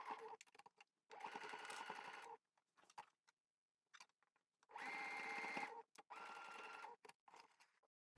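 A sewing machine stitches a jeans waistband in several close, steady whirring bursts of about a second each, separated by brief pauses and small clicks.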